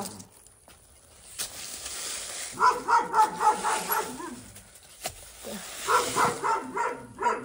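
A dog barks in short bursts, a few quick barks, a pause, then another run of barks, fairly close against a quiet background.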